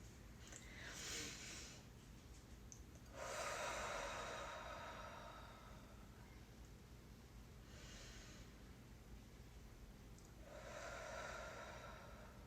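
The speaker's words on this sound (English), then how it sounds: "And let's take a deep breath together." Slow, deep breaths taken together during a yoga practice, with several long, soft inhale and exhale swells spaced a few seconds apart against quiet room noise.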